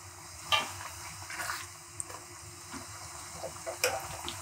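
Prawn biryani masala with yogurt cooking down in a pan, a low bubbling simmer broken by a few sharp spoon scrapes and clinks against the pan, close up with no talking.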